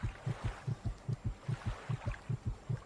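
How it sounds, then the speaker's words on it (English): A video game's stealth-mode heartbeat effect, a steady loud low double thump repeating about every 0.4 seconds with nothing else over it. "Listen to the heartbeat."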